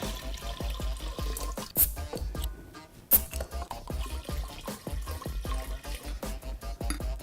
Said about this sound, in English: And then we're going to add our lemonade.